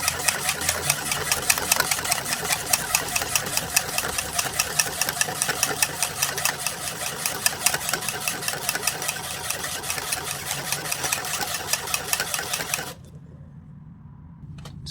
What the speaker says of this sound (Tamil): நல்லா பீட் பண்ணிக்கோங்க.